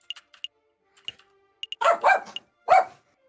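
A dog barks three times inside a courtroom scene from the game Aviary Attorney, with loud, close, sharp barks following a few soft clicks and taps.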